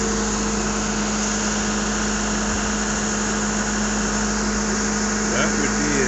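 Skid steer engine running at a steady low idle close by, a continuous droning rumble with a faint hum that stays even throughout, with a voice talking over it.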